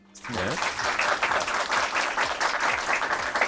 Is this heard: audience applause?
yes